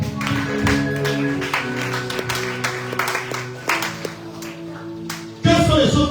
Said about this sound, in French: Est-ce qu'on va acclamer Dieu?